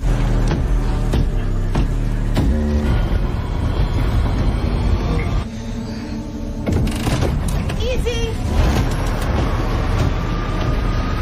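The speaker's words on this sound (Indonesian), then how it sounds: "Bastille pun mulai memajukan kereta, tentunya dengan aba-aba dari Alexandra." A train in a film pulls forward with heavy rumbling and rhythmic clanking, loud and close, blended with a dramatic soundtrack and voices.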